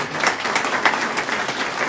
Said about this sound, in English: I want you to give Mark Cruitt an applause for all of you